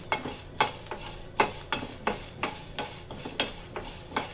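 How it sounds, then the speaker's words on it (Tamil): Sago pearls being dry-roasted in a pan, a spoon scraping and stirring them in about a dozen regular rhythmic strokes, with a faint sizzle underneath. "ஜவ்வரிசி நல்லா வறுக்கும் போது கொஞ்சம் பெருசாக, சைஸ் பெருசாக வரும்."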